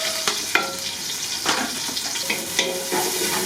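Onion and garlic fry in a clay pot, a steady bright sizzle broken by a few scraping stirs, close and moderately loud with no talking.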